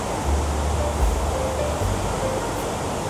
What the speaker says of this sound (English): We also experience riding in a boat under the waterfall.